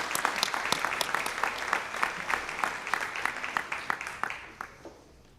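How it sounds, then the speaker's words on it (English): A crowd at a high school scholarship and awards ceremony gives a round of steady clapping. The applause is moderately loud, thins out and fades away over the last second. "let's give them a round of applause"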